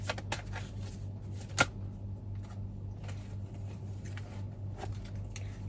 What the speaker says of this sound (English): Now let's actually shuffle some tarot and see.